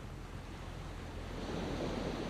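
Steady roar of waves breaking on the shore at Pantai Hegar, a continuous broadband wash that swells slightly louder toward the end, with no voices.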